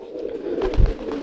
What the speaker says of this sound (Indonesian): Jadi merpati kolong nih.